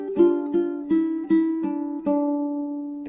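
Six plucked ukulele notes in a steady, even rhythm, the 2nd string sounded twice and then the 3rd string twice in a fretted position, each note ringing close and clear before the next, with no voices over them.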